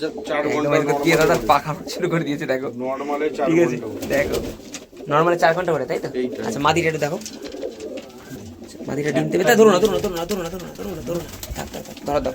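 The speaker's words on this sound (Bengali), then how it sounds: "অনেক পুরনো পায়রা দাদার বাড়ির অনেক পুরনো পায়রা দেখে নাও" Domestic pigeons in a Madras loft coo steadily through the clip, close by and fairly loud, while people talk over them almost throughout.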